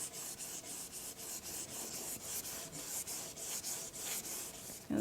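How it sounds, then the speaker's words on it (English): Rhythmic back-and-forth wet sanding of a kitchen cabinet with sandpaper before the top coat, repeated strokes at a steady pace, close and clear with no talking. "Took very, very little sanding for me to do."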